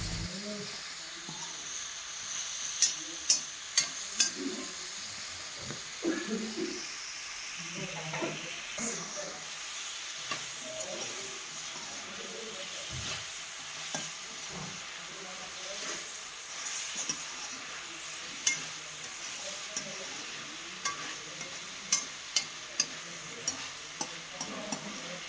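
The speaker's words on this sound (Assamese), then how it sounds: "মই এতিয়া সুন্দৰকৈ ভাজি লওঁ দেই" Drumstick vegetable fries in a pan with a soft, steady sizzle and hiss. A utensil stirs it, making regular sharp ticks and scrapes throughout.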